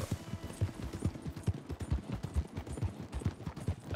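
Rhythmic clip-clop of horse hooves trotting at a steady pace in the video game Red Dead Redemption 2, close and fairly clear, with no talking.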